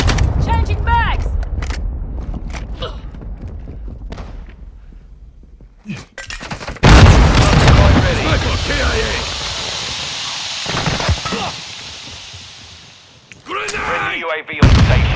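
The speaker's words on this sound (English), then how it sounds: "Friendly cruise missile approaching target." Cruise missile strikes land in a first-person shooter video game as a burst of loud, close explosions with crackling, shattering debris. Game radio voices and a player talking come before and around the blasts.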